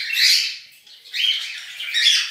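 Pet parakeets in cages give three shrill squawking bursts, close and loud, with short gaps between calls.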